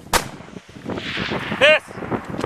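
A precision rifle shot at a sniper match, one sharp close report followed by rolling echo, with people talking around it and a brief electronic beep.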